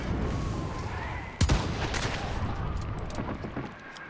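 Gunfire in the video game Hunt: Showdown: a single sharp, loud shot cracks out midway over a low ambient rumble, followed by fainter distant reports.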